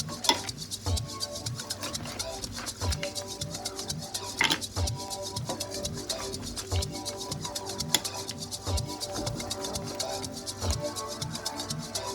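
Mussels in wine garlic sauce ladled from a pot into a bowl: a spoon scrapes and clinks against metal and ceramic in irregular taps, with soft wet slurping of thick sauce, fairly close and quiet, no talking.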